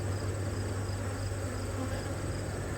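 Honeybees swarm around an open hive in autumn, a dense, steady buzzing that fills the air at close range with no pause.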